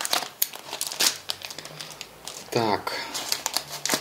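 A green China Post plastic mail parcel from China is torn open, with close, steady crinkling and rustling and one brief tearing rip. A voice speaks briefly.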